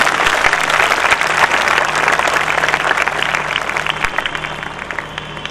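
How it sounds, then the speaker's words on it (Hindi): Church congregation clapping to give thanks to God during a sermon, a loud, dense applause that holds steady for several seconds and then starts to fade. "ताली बजा के परमेश्वर के धन्यवाद करना।"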